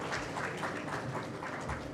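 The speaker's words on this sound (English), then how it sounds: "Please welcome Dr. Saran with some applause." Applause from a conference audience welcoming a keynote speaker to the stage, a steady dense patter of many hands clapping at moderate volume throughout, with no talk over it.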